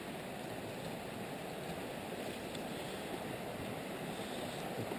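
Antietam Creek flows in a steady, even rush of broadband water noise, continuous and moderately faint, with no voices over it.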